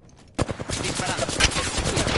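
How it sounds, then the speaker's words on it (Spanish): Gunfire in a PS4 shooter game with shields and a closing ring, bursting in after a brief quiet start as rapid automatic fire, loud and close, with overlapping shots. "Estoy recibiendo disparos."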